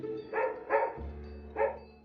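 Two pug dogs giving three short, sharp barks close by, the first two in quick succession and the third after a pause, over a low steady background hum.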